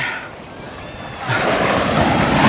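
Ocean surf rushes in, rising from a soft wash to a louder, steady roar of breaking waves, with some wind buffeting the microphone.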